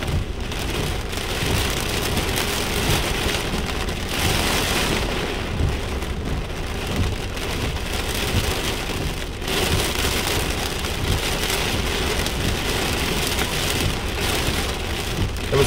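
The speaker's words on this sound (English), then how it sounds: "Lots of rain." Heavy rain pours down steadily during a strong rainstorm in Las Vegas, a dense, loud hiss of drops pounding surfaces, continuous throughout with no talking.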